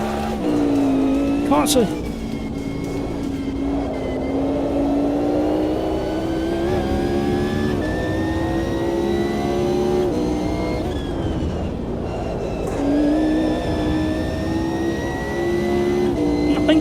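Race car engine in Automobilista 2 held at high revs under steady throttle, with gear-change pitch steps and rising whine throughout, while someone talks over it continuously.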